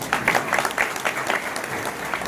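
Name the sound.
audience applause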